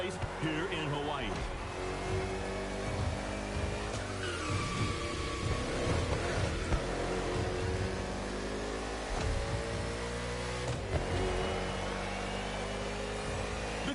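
Race cars in The Crew Motorfest drone through a NASCAR-style urban street race in Honolulu, Hawaii, with a constant engine roar and shifting pitch that runs the whole time beneath a commentator's voice.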